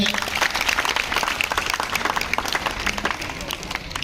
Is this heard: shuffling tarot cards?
no